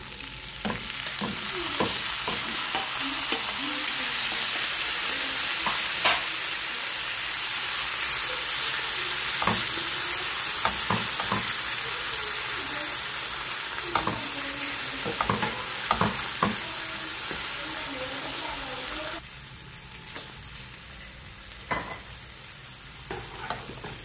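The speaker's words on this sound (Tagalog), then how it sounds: "Ayan, i-add natin ang ating 4 na pirasong talong dyan." Eggplant frying in a pan with onion, garlic and tomato, a steady loud sizzle broken by frequent clicks and scrapes of stirring, settling quieter in the last few seconds.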